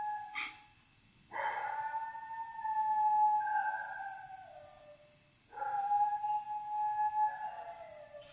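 Dogs howl in long, drawn-out wails, two rising and falling bouts separated by a brief pause, heard at moderate distance with no talking.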